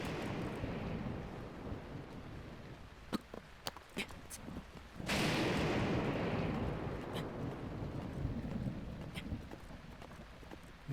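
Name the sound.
rain and thunder in Zelda Breath of the Wild video game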